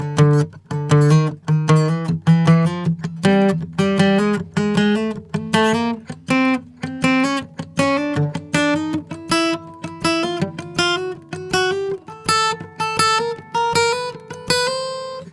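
An electric guitar plays a chromatic spider exercise, mixing steady strums with picked single notes that climb gradually in pitch, in an even rhythm, close and clear with no talking.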